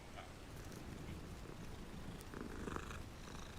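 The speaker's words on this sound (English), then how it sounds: "Cat." A cat in the video game Hogwarts Legacy purrs in a low, steady, continuous rumble, close but quiet, with a faint airy background.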